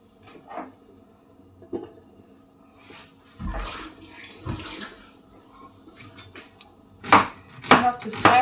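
Onions sliced thinly with a knife for an egg curry, irregular crisp chopping taps on a board, sparse at first and then grouped into quicker cuts near the end, close and fairly quiet.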